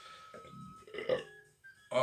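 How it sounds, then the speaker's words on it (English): A man lets out a coffee burp, a loud throaty belch in two or three bursts with short breaks between them, heard up close in a quiet room. "coffee burp"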